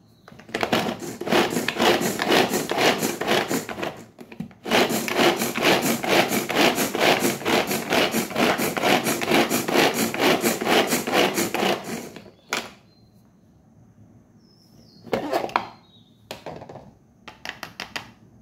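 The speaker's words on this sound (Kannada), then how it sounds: "ಸೊ ಇದನ್ನು ಚಾಪರಲ್ಲಿ ಹಾಕಿ ಚಾಪ್ ಮಾಡ್ಕೊತೇನೆ ಚಿಕ್ಕದಾಗಿ" Vegetables are finely chopped in a hand-pulled kitchen chopper, heard as a long run of rapid, rhythmic rasping pulls, a short break, then more, ending in a few isolated clunks.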